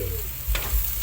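Sautéed small crabs (talangka) being stirred in a hot pan, with a short burst of sizzling and a couple of scraping stirs over a steady low rumble, heard up close and alone.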